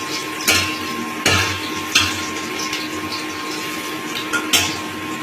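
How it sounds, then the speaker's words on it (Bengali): Potatoes frying in a pan on a home stove, a continuous sizzling hiss broken by several sharp scrapes and clanks of stirring, close and fairly loud, with a steady background hum. "এখানে আলুটা ভাজা হচ্ছে"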